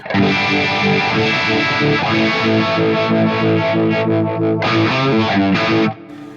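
Sustained, distorted electric guitar chords through a classic vibe phaser at about 3 Hz, a slow swirling sweep, loud and continuous, cutting off abruptly near the end.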